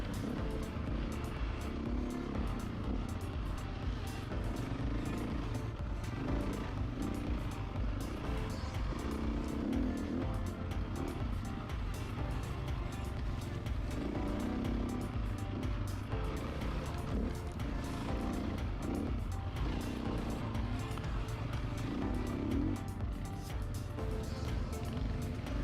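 Several orange motocross bikes, one a KTM 525, buzz and rev in replayed footage. The engine drone is continuous and distant, with repeated swelling rises and falls and no talk over it.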